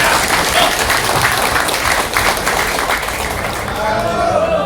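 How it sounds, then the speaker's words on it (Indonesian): An audience applauds at a cooperative's annual members meeting, sustained dense clapping from many hands filling the room, with voices mixed in. "Tepuk tangan dulu, tepuk tangan dulu."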